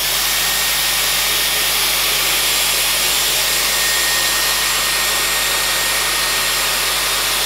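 A Dyson Airwrap hair dryer blows hot air in a steady, loud, even whoosh with a constant motor whine, running unbroken and alone with no talking.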